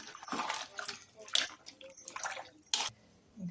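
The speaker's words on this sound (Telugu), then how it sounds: "ఉప్పు వేసుకున్న తర్వాత నీట్గా కలుపుకోవాలి." Horsegram and vegetable curry being stirred with salt and water mixed in, giving several short wet sloshing, scraping bursts close by at low volume.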